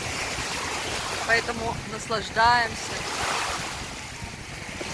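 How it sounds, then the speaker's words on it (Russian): Sea waves breaking on a beach in Tunisia make a steady, fairly loud wash of surf mixed with wind noise, running continuously throughout, while a voice speaks briefly over it partway through. "шумом моря, звуком волн."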